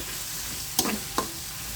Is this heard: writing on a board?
no